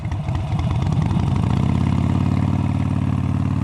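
A motorcycle engine idles close by, a loud, steady low throb with a fast even pulse that settles after a short rev at the start, with no voices.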